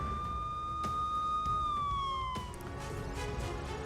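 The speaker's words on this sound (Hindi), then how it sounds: "राजधानी कीव में इमरजेंसी सायरन चालू हुए हैं" Emergency air raid sirens in Kyiv wail as a steady electronic tone that holds, then slides downward partway through, heard clearly over a low background rumble with no talk.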